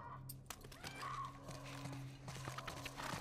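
Horse hooves clip-clop at a steady walking pace in the video game The Last of Us Part I, fairly close, with faint background ambience and occasional soft tones.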